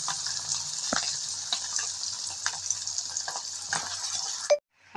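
Fish frying in oil, a steady broad sizzle with occasional sharp crackles and stirring clicks, close and fairly loud, cutting off abruptly near the end.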